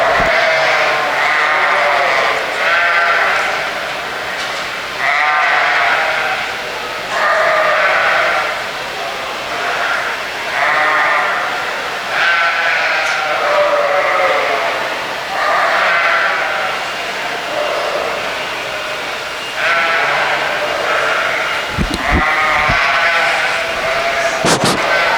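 Sheep bleating in a show ring at a sheep show with Cheviot entries, many loud, overlapping bleats repeating in bursts every couple of seconds, close and continuous throughout, with no talking.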